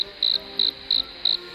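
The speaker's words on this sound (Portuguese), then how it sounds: "Que barulho que é esse? Grilo?" A cricket chirps in a steady pulsing rhythm, loud and close, with short bursts repeating about three times a second.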